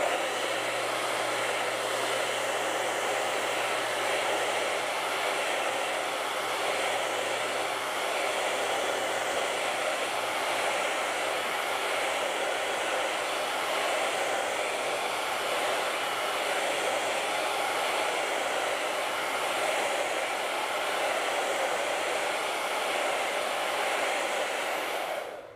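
Hair dryer blowing on an acrylic painting, a steady loud airy roar with a constant motor hum running without pause, close to the listener and no talking.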